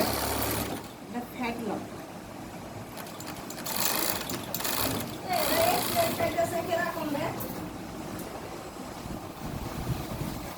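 An overlock sewing machine stitching the side seam of a trouser whirs in uneven bursts amid a busy workshop, with people talking over and around the motor noise.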